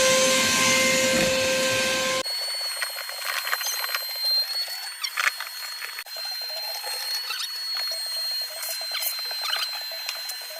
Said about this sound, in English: vacuum it out from the vacuum cleaner running outside